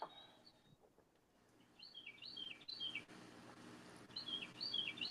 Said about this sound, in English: I got birds chirping around.